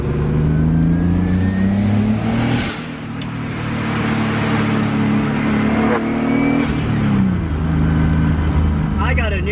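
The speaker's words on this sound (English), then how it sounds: "He's in full boost with the wastegate dumping, just holding the car there." Turbocharged BMW E36 under full boost with the wastegate dumping, a loud sustained engine drone that drops briefly around gear shifts, with a person talking over it.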